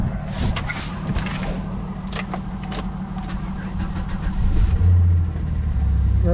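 A 2008 Saturn Vue with a no-crank fault tries to start, with engine noise near and steady, a rising low hum in the last couple of seconds, and a few brief clicks over it.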